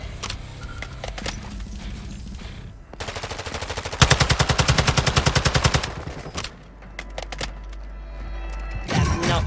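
Rapid automatic gunfire in Call of Duty: Modern Warfare II, loud bursts of dense repeated shots with a steadier stretch of fire in the middle, amid other game effects.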